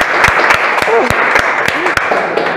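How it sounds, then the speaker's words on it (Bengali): A room of workshop attendees at an aquarium business seminar applauds the speaker with steady, fairly close clapping, while a voice talks over it at moments. "তার জন্য আমি বলবো একটা জোরে হাততালি হয়ে যাক স্যারের জন্য।"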